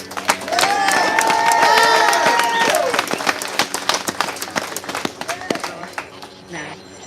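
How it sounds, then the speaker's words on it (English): A crowd of patriots at an outdoor rally in Louisville, Kentucky, breaks into loud applause and cheering that swells, then thins into scattered claps; a few voices call out and whistle over it. "I want to give you all a round of applause, first of all."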